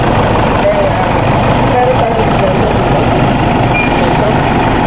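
A Toyota Fortuner SUV engine idles close by, a steady, unbroken low rumble that holds at the same level throughout.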